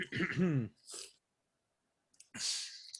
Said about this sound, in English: Got to get that unproductive cough to a productive one